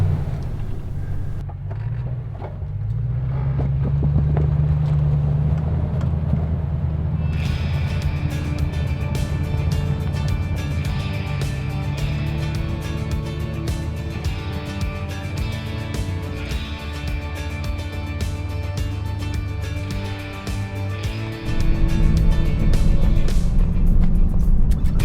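A vehicle engine under careful throttle climbing a steep trail, a constant loud low drone with rising and falling revs and a harder surge near the end, no talking.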